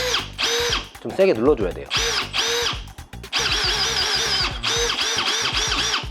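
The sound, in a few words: Festool TXS12 electronic cordless drill running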